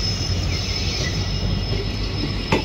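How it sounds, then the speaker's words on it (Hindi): Gorakhpur Express train hauled by a WDP4D diesel locomotive with an ICF coach rake, a loud continuous rolling roar of wagons with a high steady wheel squeal and a brief clank near the end. "WDP4D लोकोमोटिव के साथ चलती है और ये ICF रैक के साथ चलती है।"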